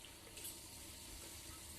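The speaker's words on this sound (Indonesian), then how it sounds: "Basahi tangan dengan air." Tap water running steadily from a faucet to wet hands for handwashing, a faint, even hiss with no break.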